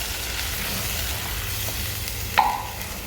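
Fish curry masala without coconut milk being stirred in a pan: a steady, soft scraping and bubbling texture with a single sharp clink of the spoon against the pan partway through, no talking.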